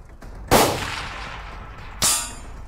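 Two sharp shots from a muzzleloader rifle ring out about one and a half seconds apart, each striking a steel target with a loud metallic clang that decays slowly; no talking.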